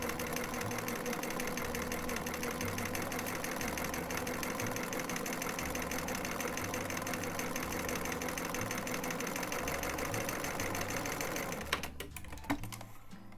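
A sewing machine stitches a wide zigzag on knit fabric, a loud, steady mechanical rattle with a pulsing low hum that runs without a break and slows near the end.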